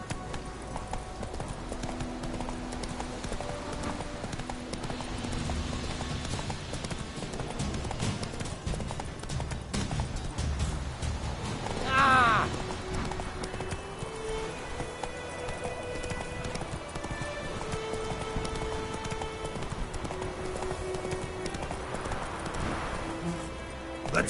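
Horse Roach galloping in the video game Witcher 3, steady rhythmic hoofbeats over a background of game music, with a brief louder burst partway through.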